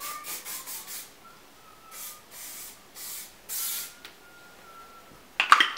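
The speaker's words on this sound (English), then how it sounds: "we're gonna go back in with this hairspray that I don't like" Hairspray from an aerosol can being applied to hair, heard as a string of short hissing bursts followed by a few longer sustained sprays, fairly close and with no talking.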